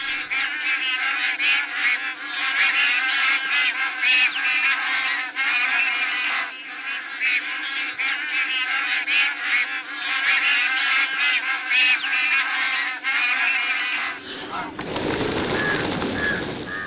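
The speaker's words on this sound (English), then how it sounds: "the birds congregate in preparation for their long flight home" A large flock of geese and other birds honks and calls continuously at Keoladeo in March at sunset, a dense overlapping chorus that cuts off abruptly near the end into a different, rougher noise.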